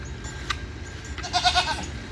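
Goats on high alert near protected birds give short bleats, a brief call early on and a louder cluster of calls near the end over steady outdoor background noise.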